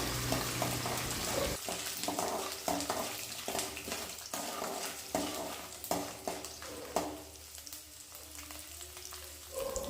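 Garlic sizzles in hot oil in a pan for tamarind gojju, a steady frying hiss broken by repeated sharp scrapes and clinks of a spoon stirring, close and fairly loud throughout.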